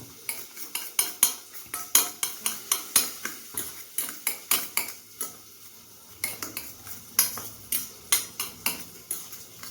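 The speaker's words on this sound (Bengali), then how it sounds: "সবটা দিয়ে আমি এটাকে আবার ভালো করে কিন্তু ফেটিয়ে নেব।" Batter with capsicum being beaten in a bowl, heard as a quick series of sharp clinks and taps of utensil against the bowl in rhythmic bursts, with a short pause around the middle.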